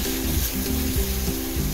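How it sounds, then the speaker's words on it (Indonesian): Ground spice paste for homemade beef floss sizzles in a pan, a continuous frying hiss with a faint background hum and no talk. "kita tumis bumbu yang sudah dihaluskan maksudnya"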